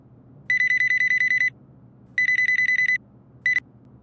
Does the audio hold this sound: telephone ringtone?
yes